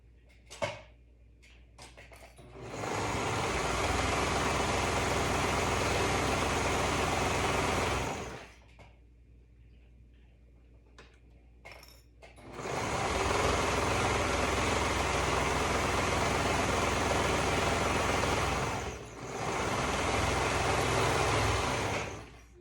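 A sewing machine runs in two long bursts and one shorter one as a sleeve is stitched onto a dress bodice, a steady close whirr with brief quiet pauses between passes.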